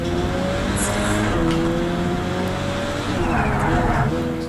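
A race car engine in Project Cars 3 drones steadily and loudly throughout, with a sustained tonal roar shifting in pitch as the car runs on track.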